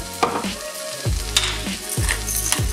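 Spinach and cheese filling for Turkish gözleme flatbreads sizzles in a hot pan, a close crackling fry punctuated by three or four scraping stirs against the pan.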